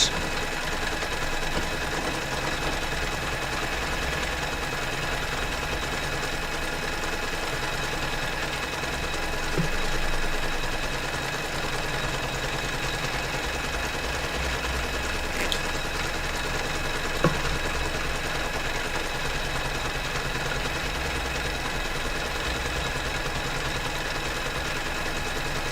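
An embroidery machine stitches out a design for a Father's Day cushion, a steady mechanical hum and rapid needle chatter running continuously at close range, with a brief louder patch partway through and no voices.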